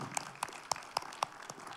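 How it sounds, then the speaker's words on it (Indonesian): Conference audience giving a short burst of applause, sparse individual claps spaced about a quarter second apart, fairly faint in a large room. "Tepuk tangan dong untuk Pak Harti."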